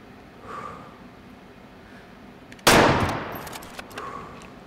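A single loud rifle shot fired at a boar in the hunting video game Way Of The Hunter cracks sharply, then its echo rolls away and fades across open country, with faint ambience before and after.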